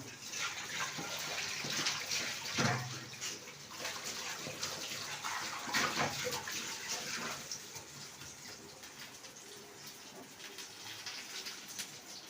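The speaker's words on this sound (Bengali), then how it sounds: "আমি একটু হাতটা ধুই।" Hands being washed under a running tap in a home kitchen, a steady gushing stream of water with splashes, loudest at the start and easing off later, no talk.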